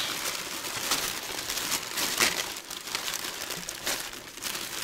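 Wrapping paper from an opened package is crumpled and crinkled continuously up close, with no one speaking.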